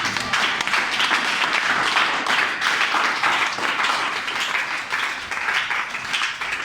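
A church congregation at a Sunday service applauds and cheers for Jesus, with steady, dense clapping that fills the room for several seconds without pause.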